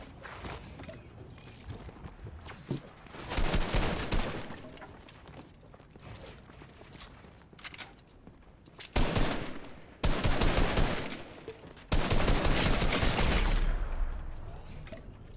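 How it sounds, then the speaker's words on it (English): Gunfire from the video game Fortnite crackles in several bursts, some rapid automatic strings and some isolated shots, loud and layered over game ambience and footsteps. "Where am I getting shot from?"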